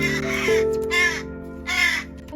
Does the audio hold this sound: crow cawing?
yes